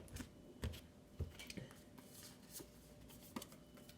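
Tarot cards being shuffled by hand, faint and close, with soft irregular riffling snaps and taps spread across a few seconds of quiet room tone.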